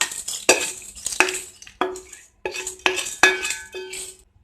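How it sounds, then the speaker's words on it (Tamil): A spoon scrapes and clinks against a pan and bowl while fried Maggi noodles are moved across, a series of sharp metallic knocks and scrapes in an irregular rhythm, close and clear. "இப்போ ரெடி பண்ண இந்த மேகி ஃப்ரையை வந்துட்டு ஒரு பவுலுக்கு மாத்திடலாம்."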